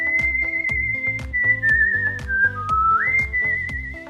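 Someone whistles a melody over a steady rhythmic backing accompaniment, clear, sustained tones gliding between notes, close and alone without talk.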